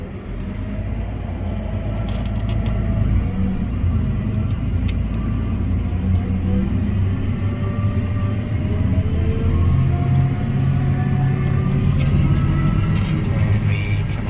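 A steady, loud tractor engine drones while baling fourth-cutting hay, holding a low continuous rumble throughout with a faint mechanical whine and occasional light clicks, and no voices.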